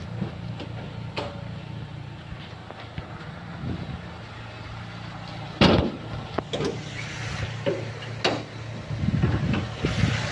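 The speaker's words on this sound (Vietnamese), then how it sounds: "Máy nổ êm ru luôn." A 2008 Daewoo Gentra engine idles steadily with a low, even hum close by, broken by a few sharp clicks and knocks around it.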